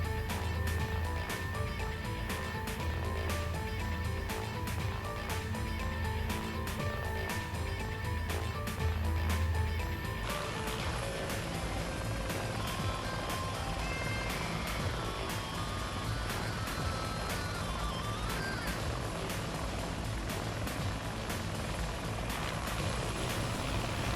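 A helicopter in a flight simulator game, cruising at about 120 knots over Argentina and Chile, giving a continuous loud rotor and engine drone with rhythmic blade beating, unbroken throughout and without voices.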